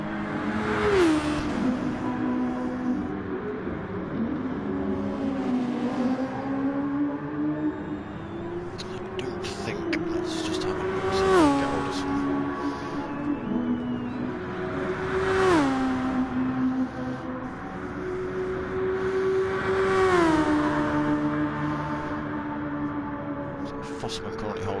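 Super Formula race cars in a racing video game, engines whining and revving in repeated rising sweeps as they shift through gears, a steady near drone lasting throughout.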